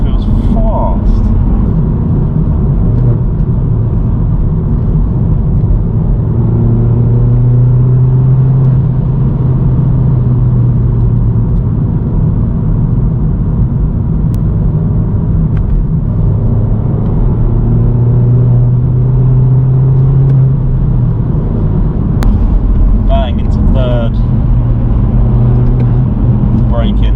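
A BMW 1 Series car engine drones steadily up close, its pitch rising and falling through several revs as the car drives, with a voice talking over it.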